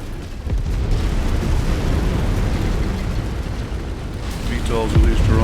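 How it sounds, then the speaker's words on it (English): Video game enemy vehicle blowing up: a sustained low rumbling blast that rolls on for several seconds, with a brief sharper crackle near the end. "Enemy vehicle destroyed."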